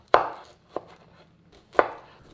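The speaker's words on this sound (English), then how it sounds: "and into crumbles. Just a rough chopping." A knife roughly chops cauliflower into crumbles on a board: three sharp, close chops with a softer one between them, and no other sound.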